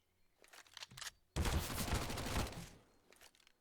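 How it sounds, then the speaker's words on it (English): Sustained burst of automatic gunfire in a competitive Counter-Strike match on the Inferno map, a teammate firing on his own player; a dense, loud volley of over a second follows a few fainter earlier shots, then scattered quieter shots trail off. "Weaklad is just being shot at by his own teammate"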